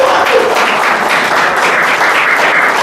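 Congregation at a church praise and worship night claps together, a loud, close, continuous burst of applause lasting about three seconds with no voices over it.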